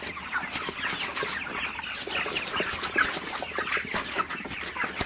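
Broiler chickens on a farm cluck and chatter continuously, a dense flock sound close by with frequent overlapping calls and no talking.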